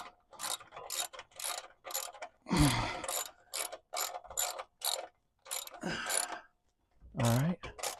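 Ratchet wrench tightening a bolt on a John Deere mower pulley, a series of quick clicking bursts with short pauses between strokes, close and moderately loud.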